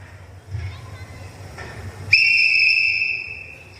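The Captain blasts a sharp, piercing whistle in a Sound of Music scene: one loud sustained shrill tone that starts abruptly after a few soft shuffling noises and slowly fades.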